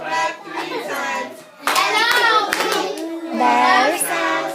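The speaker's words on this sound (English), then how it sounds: "Clap 3 times." A child claps hands three times in quick succession during a letter-sounds lesson, sharp slaps set among children's singing and talking voices.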